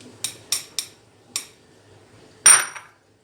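A sieve of flour and cocoa powder for tiramisu is tapped over a bowl: four quick, light metallic knocks in a loose rhythm, then a pause and one louder clattering knock, all close and with no talking.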